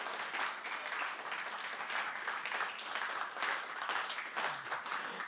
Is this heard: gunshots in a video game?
no